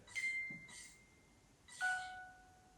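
Music box in the abandoned Talgarth Hospital asylum, giving a few faint, separate chiming tones, each a sustained bright note with a brief pause between them.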